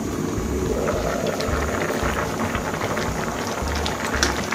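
Mixed vegetables simmer in a covered pot over medium heat, producing a continuous, even bubbling hiss with small popping bursts, close and steady throughout.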